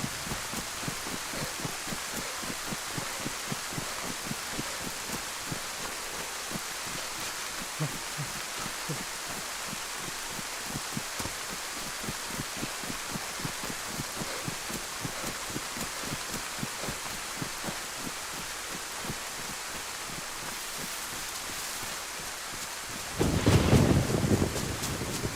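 Rain and thunder in DayZ's Livonia map: a long, even wash of rainfall with soft rhythmic pulses throughout, then a loud rumble of thunder breaking in near the end.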